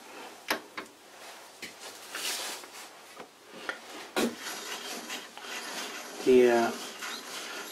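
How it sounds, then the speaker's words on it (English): Dial indicator rubbing against a part of an old lathe being reassembled: faint scraping and rasping friction with scattered clicks and knocks, irregular and close, ending in a brief squeaky scrape. "The sound you're hearing comes from the dial indicator rubbing against the other part."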